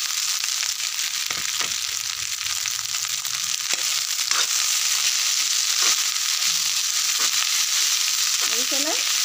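Egg fried rice stirred and frying in a pan: a loud, continuous sizzle with scraping stir strokes and a brief voice near the end.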